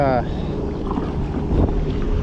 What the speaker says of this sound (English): the wind has picked up incredibly